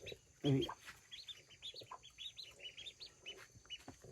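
Young ducklings being fed and raised alongside a hen cheep in quick, high, thin peeps, close by and fairly soft, with one louder thump-like burst near the start.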